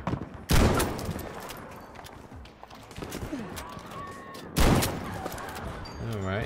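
Battlefield 5 anti-tank rifle fire, a Panzerbüchse or Boys, with two loud, sharp blasts a few seconds apart among scattered battlefield noise, under brief voices.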